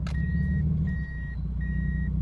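A Toyota Supra MK4 automatic, put in reverse, sounds three evenly spaced electronic beeps, each about half a second, over a steady idling engine hum, like a truck's reversing alarm.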